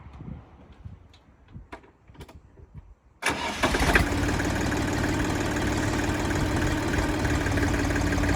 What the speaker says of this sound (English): when you start the tractor after you've run it out of fuel, after you've bled it, put the throttle at full revs